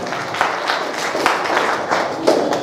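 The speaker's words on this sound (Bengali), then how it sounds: "প্লিজ আর একটা জোরে হাততালি।" An audience at a Netaji 126th birth anniversary event in Katwa claps in a loud, continuous round of applause with a few sharper bursts, filling the whole moment with no talk on top.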